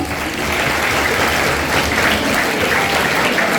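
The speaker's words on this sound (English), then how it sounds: "Let us give a round of applause for all our teachers." At a school Teachers' Day celebration, an audience gives the teachers a round of applause: loud, continuous clapping from many people that sustains without a pause.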